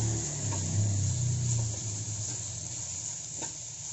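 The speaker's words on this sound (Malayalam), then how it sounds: "ഇനി നമുക്ക് കുറച്ച് കറിവേപ്പിലോട് ചേർത്തിട്ട് ഒന്ന് ഇളക്കി മിക്സ് ആക്കാം." Squid roast masala with curry leaves and tomato is stirred in a pan, giving a steady sizzling hiss with a low rumble and soft occasional scrapes.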